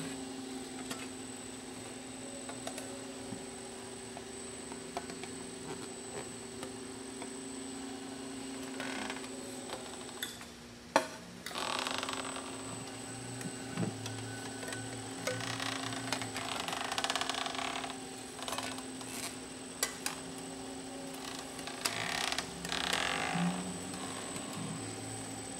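A bead roller fitted with a skateboard wheel works a stainless steel panel, giving soft rolling, rubbing and scraping metal sounds with scattered clicks over a steady shop hum, fairly quiet and without talk.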